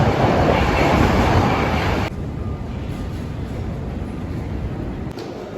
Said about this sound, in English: We are in another train station